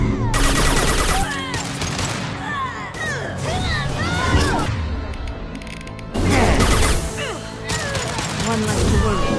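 Sustained gunfire in Mass Effect 2, dense bursts of shots and crashing impacts mixed with whistling effects, with two loud prolonged volleys separated by somewhat quieter firing and a voice briefly audible amid the combat.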